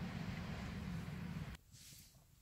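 Wind buffets a microphone held near a Hyundai IONIQ Electric's open trunk, a loud low rumbling gust that cuts off abruptly partway through, leaving a quiet outdoor background.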